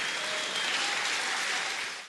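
Sustained applause from a seated audience after a political speech, a dense steady clatter of many hands filling the whole stretch at even loudness before tapering slightly at the end.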